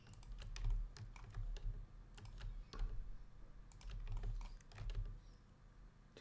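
Rapid, light clicks of a computer keyboard and mouse at a desk during 3D modelling work, close and steady, with bursts of taps and no talking.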